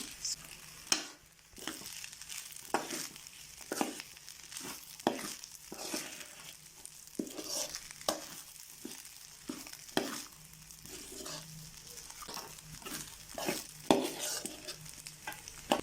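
A spatula scrapes and stirs Nigerian fried rice in a pan in repeated strokes with an irregular rhythm. The metallic scrapes are moderately close, and a faint sizzle runs underneath with no voices.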